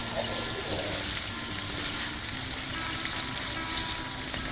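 Eggs fry in a pan for Cajun Asian fried rice, giving a steady, dense sizzle at moderate volume throughout, with a faint watery hiss and no talk.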